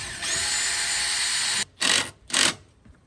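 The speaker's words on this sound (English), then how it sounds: "So let's get started on drilling." A power drill bores holes to mount solar equipment boxes, running in one long steady whine, then two shorter bursts of drilling, close and loud with no talk.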